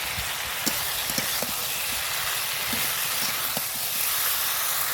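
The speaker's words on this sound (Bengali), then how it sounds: "আলুগুলো দিয়ে দেবো যে আলু আর মশলা একসাথে কষে নেবো" Potatoes sauté with spice masala in oil, giving a soft continuous sizzle and hiss with occasional light taps of a spoon stirring the pan.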